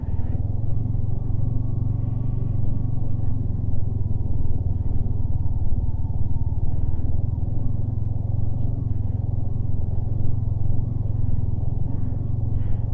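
A motorbike grinds along in first gear through deep sand on an off-road stretch between Turtuk and Shyok, its engine a steady, close, low labouring drone with no let-up and no talk over it.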